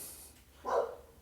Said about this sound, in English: I don't know if you can hear this dog barking